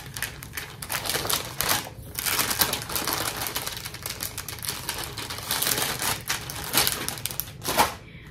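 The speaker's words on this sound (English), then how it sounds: "Sorry for the crinkling. This is one of those bags we all love to hate." A plastic bag is handled close by, its crinkling and crackling coming in irregular bursts with short pauses in between, fairly loud and with no one speaking.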